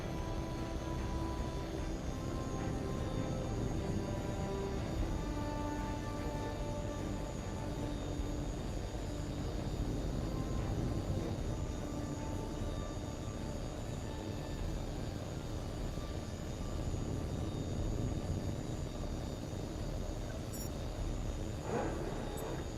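A fighter jet in the flight-combat game H.A.W.X. 2 rumbles through its takeoff with a loud, steady broadband engine roar that holds without a break for the whole stretch.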